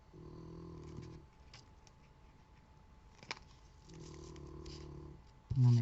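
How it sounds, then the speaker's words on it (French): A cat snoring indoors, soft breathy rasps in two long slow breaths separated by a quiet pause, faint and close, with small rustles and a louder bump at the end. "Non mais comment elle ronfle"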